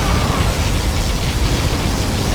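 Nuclear missile blast in the game Repair Base Tank, a loud, sustained broadband roar with heavy low rumble that holds steady for about two seconds, with no voices over it.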